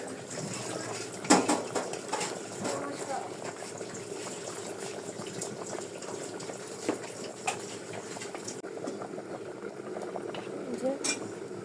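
A pot of sour fish curry with ripe mango, potato, a large fish and tilapia simmers with a soft, steady bubbling hiss, punctuated by a few faint clinks, while a voice is faintly present in the background.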